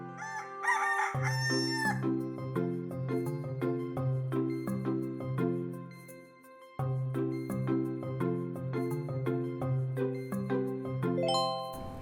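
A rooster crows on a farm, its call set over steady, bouncy musical accompaniment with chime-like tones that runs for the whole stretch, briefly dropping out near the middle.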